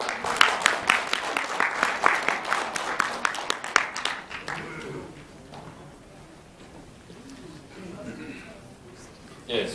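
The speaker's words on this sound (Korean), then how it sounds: "박수로 모시겠습니다" Applause at a press conference welcomes a speaker, a close burst of clapping for about four seconds that fades into quiet room murmur, with a voice speaking briefly near the end.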